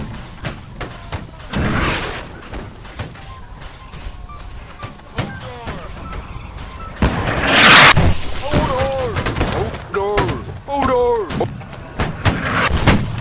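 Cannon fire in the Holdfast game, heard as a couple of heavy booms: one early and a louder, sharper blast near the middle, with players talking over much of it.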